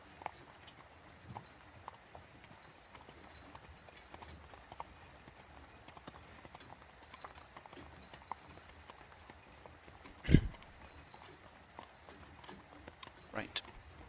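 Horses pull a carriage in the fantasy role-play Blood & Wine, their hooves clip-clopping faintly and steadily in the distance, with a sharper thump partway through.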